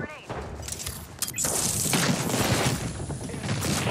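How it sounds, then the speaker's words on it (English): Explosions and gunfire from a video game firefight, dense bursts and crashes filling the soundscape after a short sharp opening, with voices talking over the action. "Look out, grenade."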